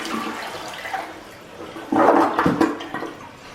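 A toilet with paper in the bowl flushes: a sudden loud rush of swirling water surges midway, gurgles briefly, and drains away, with no talking over it.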